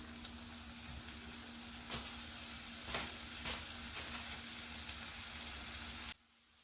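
Flour-coated fish fries in a shallow layer of oil with a steady, close sizzle and scattered crackles, then the sound cuts off abruptly near the end.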